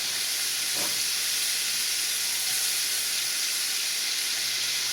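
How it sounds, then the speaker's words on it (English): Steady loud sizzling of flour-coated chicken frying in hot oil, a continuous close hiss with no talking. "Now that's frying up."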